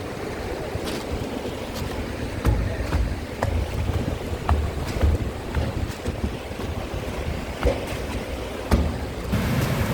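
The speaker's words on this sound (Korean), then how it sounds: "우와, 저기 폭포도 있네." A waterfall that formed after heavy morning rain in a mountain valley in Samcheok, Gangwon, gives a steady, loud rushing roar, with wind buffeting the microphone throughout.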